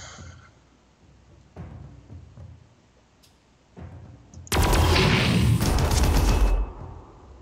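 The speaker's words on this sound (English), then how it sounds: "so exchange of fire there" Gunfire trades in the Warhammer 40K Armageddon strategy game, autoguns against lasguns: a few soft thumps, then a loud dense burst of shots lasting about two seconds before fading.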